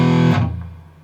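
Electric guitar through a Carvin X100B amp with heavy distortion, one loud sustained chord that is cut off and decays quickly into a fading low ring, with no talking.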